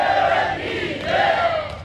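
A live crowd at a Hindi poetry recital on Jain themes keeps up a loud, continuous rhythmic chant of slogans throughout, dense and close with no talk over it.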